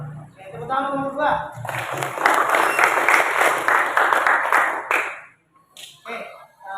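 A classroom full of students claps for group 2 for about three seconds, a dense patter of hands after a teacher's short spoken line, then fading into quiet.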